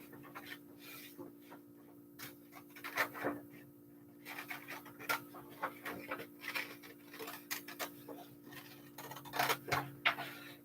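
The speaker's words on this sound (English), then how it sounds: "And let's cut out our hat." Repeated crisp snipping and clicking of scissors cutting paper, close by, in uneven bursts over a steady low hum.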